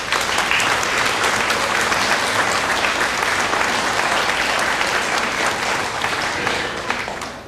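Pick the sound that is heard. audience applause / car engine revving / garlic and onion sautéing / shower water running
audience applause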